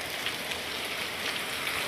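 Heavy, relentless rain pouring down outdoors without wind, a dense steady hiss of drops striking surfaces, loud and unbroken.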